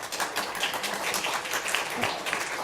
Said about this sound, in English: A round of applause for Rick, please